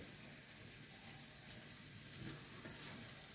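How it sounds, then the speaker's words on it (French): Chinese-style shrimp are stirred in a hot pan. A soft, even sizzle of frying runs throughout, with faint scraping and stirring noises, all at low volume. "Alors, je vais tout mélanger."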